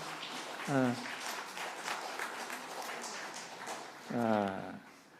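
A church congregation at a Korean Sunday worship service breaks into brief applause in a large room, with a voice speaking before and after the clapping.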